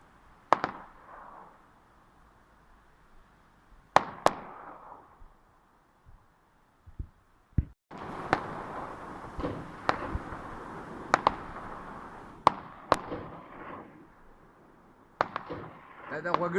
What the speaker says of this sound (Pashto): دا غوږین ټوپک ډزې دي